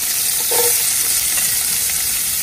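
Onions fry in a pan for a Tamil pork curry, giving a steady, close hiss and sizzle with a brief stirring scrape near the start and no talking.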